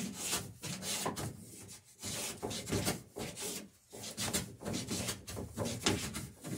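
A hand plane is pushed along the grain while cutting gains in the sheer strakes of a wooden boat, giving close, rhythmic rasping strokes that repeat steadily with short pauses between passes.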